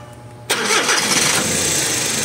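A Suzuki DA64 van engine cranks and catches at about half a second, then settles into a steady, loud idle close by. The battery warning light stays on, a sign the alternator is not charging.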